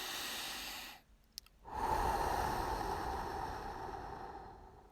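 Deep breaths taken during a relaxation exercise: a long, airy, close exhale fills the air after a brief quiet pause, fading slowly with no talking.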